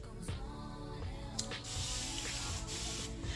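A few quick bursts from a spray bottle misting hair locs, soft hissy puffs repeated at uneven intervals over a quiet background with faint rubbing.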